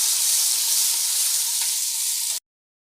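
Potatoes and green peas sizzling loudly in a hot pan with dried chilli, ginger and black cumin while being stirred, a steady bright hiss that cuts off abruptly at the end.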